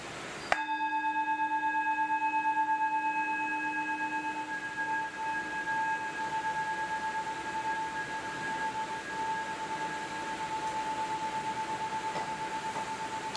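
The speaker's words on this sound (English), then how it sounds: "we're gonna ring us in with a bell here" A single bell struck to open a slow-flow moon salutation yoga class, a sharp clear strike whose bright ringing tone hangs and slowly fades over more than ten seconds in a quiet room.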